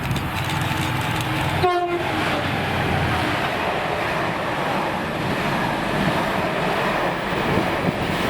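Freight train on the West Coast Main Line, electric locomotive 88010 leading class 68004 in diesel mode, rumbles past with a steady, loud roar, wind buffeting and a brief horn blast early on.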